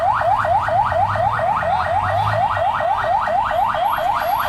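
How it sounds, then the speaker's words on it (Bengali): An ambulance siren on a street in Gulistan, Dhaka, wails in rapid repeated rising sweeps, loud and steady, over low traffic rumble. "চলছে অ্যাম্বুলেন্স রোগী নিয়ে, সেই হর্ন আমরা শুনতে পাচ্ছি"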